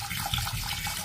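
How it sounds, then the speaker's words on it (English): Tap water gushes steadily into a pot of uncooked rice for washing, a close, continuous splashing stream with no talking over it. "So pour this in, put in the water."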